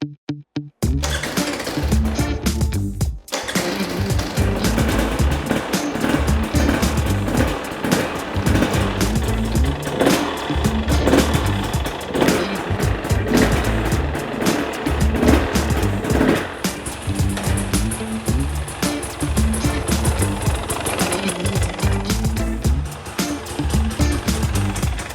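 A 2022 300 enduro motorbike engine starts and runs, settling into a loud, close, continuous rattling two-stroke drone that holds steady throughout.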